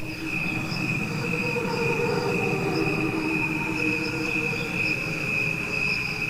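A slowed-down cricket recording forms a dense, continuous chorus of sustained droning tones with gentle pulsing, heard alone without speech.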